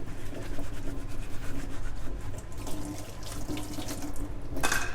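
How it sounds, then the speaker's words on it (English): A plastic sippy cup is scrubbed by hand with a Scrub Mommy sponge and original Fairy washing-up liquid at a sink, with continuous running tap water and a soft rubbing scrape, close and steady, no talk. "I'm using the original Fairy liquid, and I'm using a Scrub Mommy to do this cleaning"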